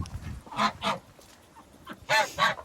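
Ducks calling from their pen in the evening, four loud nasal honking quacks in two pairs, close by, with quiet gaps between them.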